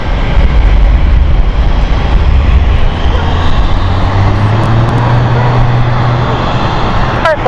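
A Loganair aircraft taking off from runway 27 at London City Airport, its engines a loud, steady roar that holds throughout with a slowly rising tone, with no voices over it.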